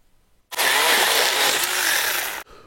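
A small battery-powered Worx WG324E mini chainsaw motor whirs into life and runs at a steady high-pitched buzz for about two seconds, then cuts off abruptly.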